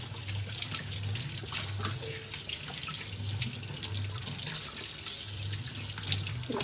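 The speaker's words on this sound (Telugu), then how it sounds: "నీట్గా ఇప్పుడు వాష్ చేసేస్తాను" Tap water runs continuously and evenly into a basin while pieces of fish are rinsed, with faint splashing and handling under the steady flow and no speech.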